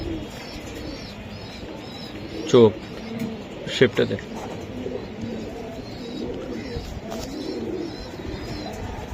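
Racing pigeons of the Budapest breed coo softly under steady nearby male conversation, with a couple of brief louder bursts partway through.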